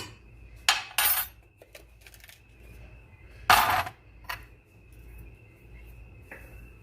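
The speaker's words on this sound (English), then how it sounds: "Let's mix that right in there." Spoon scraping and clinking against a bowl while stirring a strawberry jello lemon cheesecake filling, a few sharp bursts of clatter between quieter stirring, close and alone.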